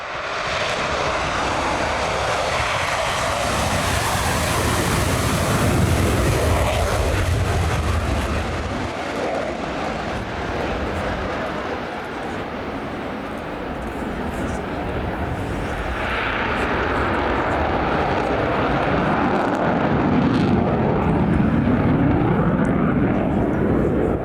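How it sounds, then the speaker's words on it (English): A loud, continuous roar of a Swedish Air Force military helicopter passing overhead in a flying display at the Royal International Air Tattoo, swelling and shifting in pitch as it moves, with an announcer's voice underneath. "a very nice display by the crew headed by Master Sergeant Fredrik Lidmer from the 2nd Helicopter Division"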